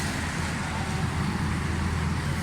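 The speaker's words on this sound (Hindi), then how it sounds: "मुकम्मल का गाड़ी स्टार्ट करते हैं।" A Suzuki Cultus three-cylinder car engine runs steadily after repairs to its jets, fuel mixture and carburetor settings, a loud, constant rumbling idle with no voices.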